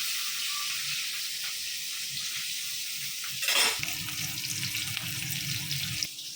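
Small hilsa fish fry lightly in oil in a pan, a steady soft sizzle running throughout, with a brief louder burst of crackling and stirring midway before settling back to a gentle hiss.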